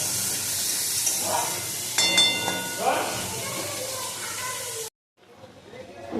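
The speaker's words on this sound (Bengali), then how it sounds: "কড়াইয়ে দিয়ে দিলাম টমেটো" Tomatoes dropped into a hot wok give a loud, steady sizzle and hiss lasting nearly five seconds, with a few clinks of utensils, before cutting out abruptly and returning more faintly.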